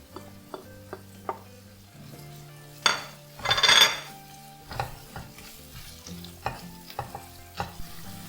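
Chicken coated with chili powder, pepper powder and turmeric being sautéed in a kadhai for Peshawari chicken, with a spoon stirring and scraping in repeated clacks and a steady sizzle, one louder burst of frying near the middle, no talk.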